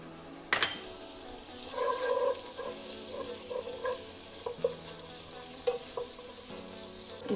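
Garlic frying in melted butter in a pan for chicken steak, with a continuous soft sizzle and bubbling, a few sharp clicks of a utensil, close and low in level.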